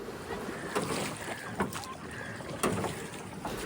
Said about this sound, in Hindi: और वो चप्पू चलने की आवाज़, वाह मज़ा आ गया।